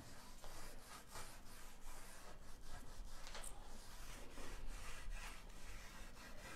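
White paint being wiped onto a piece of wood with a cloth, a steady soft rubbing and scraping texture that continues close up without a break and with no talking.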